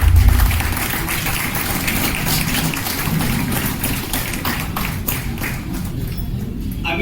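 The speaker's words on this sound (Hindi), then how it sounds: "आइए एक और जोरदार तालियां।" Sustained audience applause at a stage event, many hands clapping steadily as a dense, even patter that carries on without a break.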